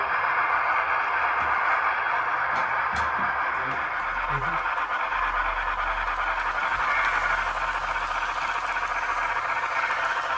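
A Broadway Limited Imports Union Pacific Big Boy model locomotive plays its sound effects, a steady rumbling, hissing steam-engine chuff with scraping rattles, running continuously at moderate volume with no talking.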